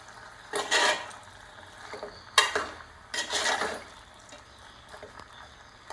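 Kappa biryani being stirred in a pot, with coriander and mint leaves going in: a few separate bursts of scraping and clinking, moderately close, and no talking.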